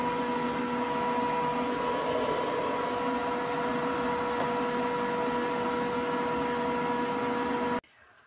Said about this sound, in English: So I'm gonna go sit under the dryer